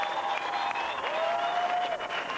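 Crowd at a bodybuilding competition applauding and cheering for more, steady sustained clapping with whistles and shouts, with a voice speaking over the noise.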